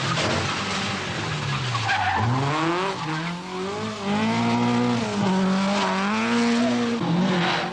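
A Vauxhall Chevette rally car skids at a 1982 British championship rally, its tyres squealing loudly and continuously over a revving engine whose pitch rises and falls for several seconds, close by.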